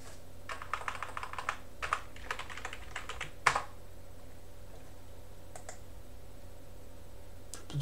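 Keys tapped on a computer keyboard in quick light clusters, then a sharper single press followed by sparse clicks, close and fairly quiet over a low steady hum.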